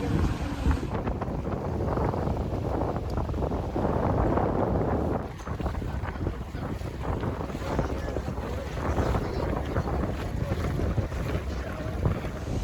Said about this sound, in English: we're here at the port now, and it's time to get on the boat